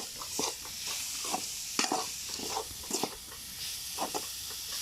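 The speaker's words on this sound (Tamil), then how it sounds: "இப்போ இந்த வெள்ளமும் தேங்காயும் நல்லா கொஞ்சம் மசஞ்சி வர்றது மாதிரி" A spoon stirs and scrapes jaggery and grated coconut in a hot pan, with a soft steady sizzle and irregular scraping strokes, close up and with no talking.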